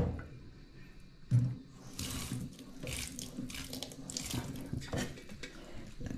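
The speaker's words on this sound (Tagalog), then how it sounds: "Lagyan natin ng tubig kunti" A little water is poured onto cooked rice at home during a power outage, making a steady splashing and trickling that runs for several seconds, fairly close and with no talking.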